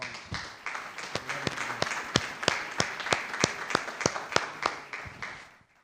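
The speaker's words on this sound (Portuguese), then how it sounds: "Vamos dar uma salva de palmas" A small church congregation claps in an evenly paced rhythm, sharp individual hand claps that gather into steady applause and then fade out after several seconds.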